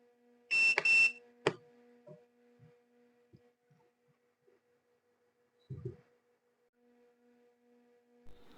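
An automatic 60-egg incubator gives one short, clear electronic beep, then a sharp click and a faint hum from the egg-turning motor, with soft scattered knocks in an otherwise quiet room.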